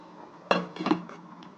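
A metal lid set down onto a pot of jackfruit and potato curry, one sharp clink followed by a second rattling knock, close and fairly quiet.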